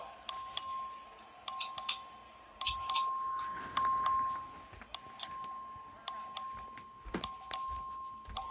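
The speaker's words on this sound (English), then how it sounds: "The clerk will please ring the bell." A voting bell in the Texas legislature chamber rings in repeated bright dings, clustered strikes recurring every second or so over a steady tone, with faint room noise between rings.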